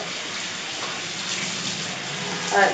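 Water runs steadily into a cooking pot to rinse out leftover spice paste, a continuous near splashing wash with a brief louder gush at the end.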